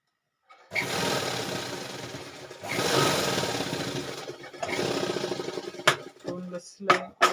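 A sewing machine stitches along the opening edge of a four-cornered ruffled pillow cover in three sustained whirring runs separated by short pauses, followed by a few quick bursts and clunks as the stitching is finished.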